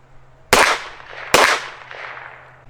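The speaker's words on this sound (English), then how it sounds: "Gonna shoot a 5-shot group with the Rock Island." A Rock Island Tac Ultra pistol fires two sharp shots outdoors at a range, each a loud crack followed by a short decaying echo, spaced under a second apart.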